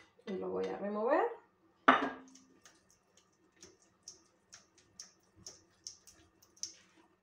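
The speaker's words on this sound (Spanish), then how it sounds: "las voy a meter a la masa y lo voy a remover" Halved candied cherries are stirred into thick cheesecake batter in a Tupperware UltraPro dish, giving a loud scraping burst, a sharp clack, then a run of light, evenly spaced ticks and taps of a utensil against the container.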